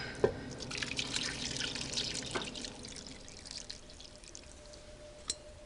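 Liquid from homemade butter strains through cheesecloth in a steady, faint trickle with a few soft drips, close by and without speech.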